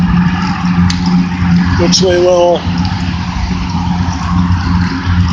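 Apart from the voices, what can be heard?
car traffic passing on the Sawmill River Parkway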